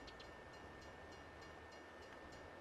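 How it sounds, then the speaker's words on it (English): A train rumbles past in the Farming Simulator farming game, a steady dense roar with faint rhythmic clacks, continuous and fairly loud throughout with no talking. "Oh crap! Freaking train!"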